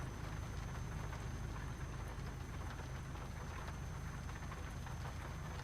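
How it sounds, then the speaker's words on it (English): Steady rain drums on a truck in Euro Truck Simulator 2, a dense, even hiss with a low rumble beneath. It is continuous and moderately faint, with no talking. "when it rains, it gets foggy"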